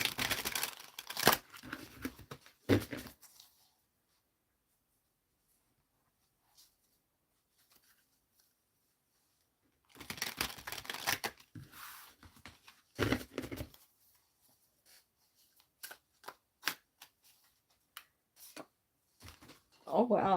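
Tarot cards are shuffled in several brisk bursts of papery riffling and tapping, separated by pauses of near silence, close to the listener.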